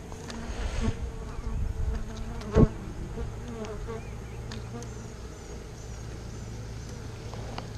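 Honeybees buzz in a steady, continuous drone close by while a hive is split, with a brief louder thump partway through and faint background noise.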